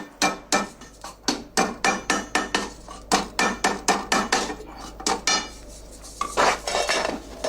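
Steady, evenly spaced metallic hammer strikes ringing on a copper cauldron in traditional crafting, about two or three blows per second, loud and close.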